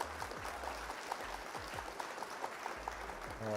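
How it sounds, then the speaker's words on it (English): A short round of applause from a small group at a Flesh and Blood card game event, steady clapping with scattered voices and faint background chatter throughout. "Round of applause for Pockets."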